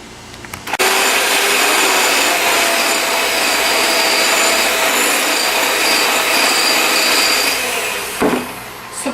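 An electric mixer whipping chocolate cake batter until fluffy, a loud steady whirring drone that runs continuously close by for most of the clip before cutting off near the end, with no talking.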